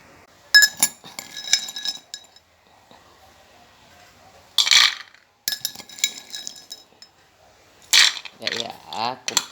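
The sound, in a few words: spoons clinking against dishes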